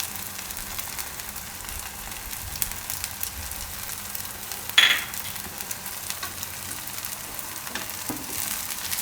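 Pava handvo batter of flattened rice cooks in oil with sesame seeds in a pan, giving a steady, soft sizzle throughout with a brief louder crackle near the middle, and no talking.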